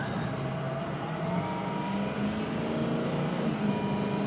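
A 2005 Ford F250 diesel 4x4 truck accelerates hard, a steady loud engine drone with a rising tone heard from inside the cab, continuous without speech.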